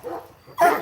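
A single dog bark rings out near the end after a quieter vocal sound, close and fairly loud, no talking.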